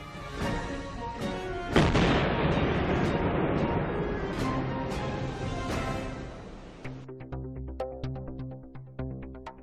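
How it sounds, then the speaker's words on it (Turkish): A homemade C4 Claymore antipersonnel mine detonates during a demolition training course, giving a sharp, loud blast followed by a long rumbling roar that fades into scattered smaller pops and bangs. "Şu anda Claymore antipersonel mayın kendimiz yaptık. C4'ten yaptık."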